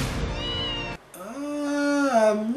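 A cat meows twice in a row: first a short cry, then after a brief gap a longer, drawn-out, rising meow, loud and close with no talk over it.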